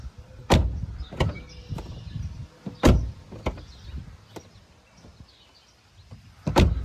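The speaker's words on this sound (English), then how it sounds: "check the door operation and make sure no snags or hits anything" A car door on a crash-damaged car under home body repair is swung open and shut several times, producing sharp thumps and latch clicks with quiet pauses between them.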